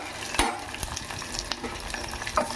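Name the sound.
boiled eggs frying in a pan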